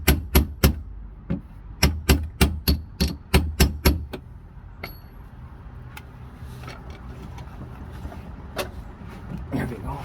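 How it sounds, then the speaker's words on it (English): A top ring on a Mercedes ML W166 fuel pump is tapped loose by hand without the special tool, giving a quick run of sharp, close metallic knocks in uneven bursts over the first four seconds. Softer handling noise and a few stray taps follow. "Slowly tapping the ring off since I don't have the special tool."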